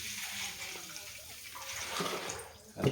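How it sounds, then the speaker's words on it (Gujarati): Water being poured into several bottles, steady splashing gush under background noise, ending with a louder burst of pouring. "પાણી નાખી દઈ."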